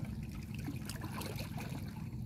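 Water spraying from a pressure hose onto a 2014 Yamaha motorcycle during washing outdoors with lake water, a close, continuous hissing trickle and splatter with low rumbling underneath.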